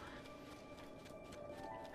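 Horse-mounted bokoblins galloping in Zelda: Breath of the Wild, a faint, steady rush of hoofbeats and game noise running continuously without a break.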